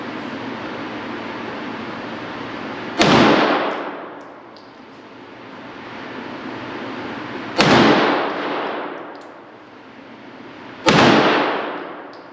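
Three sharp, loud pistol gunshots from a PSA Dagger at a shooting range, spaced a few seconds apart, each with a quick decay and echo over steady background noise.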